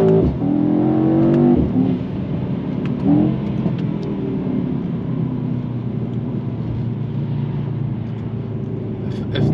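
A 2022 Mercedes-AMG E63 S with its twin-turbo V8 pulling hard, heard from inside the cabin as a loud steady engine drone with rising harmonics and a brief shift early on.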